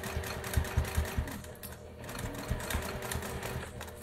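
A sewing machine stitches a fabric face mask for nurses, its needle running in quick rhythmic bursts with short pauses, close and steady at moderate volume, with no talking.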